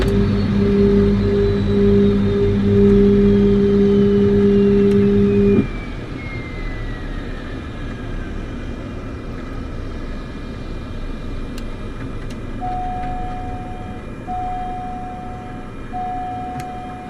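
An aircraft engine in Microsoft Flight Simulator 2024 shuts down: a steady droning hum with a falling whine cuts off abruptly, leaving a quieter rumbling background with faint intermittent beeping tones.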